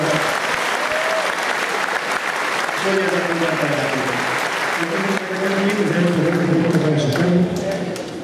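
Audience applause fills a table tennis gala hall, loud and continuous throughout, with a voice speaking over the clapping.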